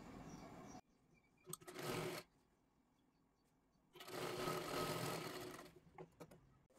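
Sewing machine stitching a blouse lining for a size 38 princess-cut blouse, running in two loud bursts, one short and one longer, with quiet pauses between.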